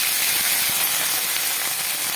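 Capsicum and ginger paste frying in a pan, giving a steady, bright sizzling hiss that stays loud and even throughout with no voices.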